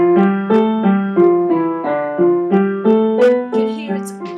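Piano playing Hanon exercise number one slowly, a steady pattern of evenly spaced notes that repeats over and over, clear and close with no talking.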